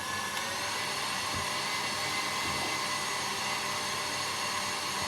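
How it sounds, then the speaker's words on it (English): An electric mixer whisks meringue for Swiss meringue buttercream on high speed, a steady, loud whirring motor drone running unbroken throughout with no talk. "So I'm going to whisk this up to make like a meringue. So I'm just going to put it on high."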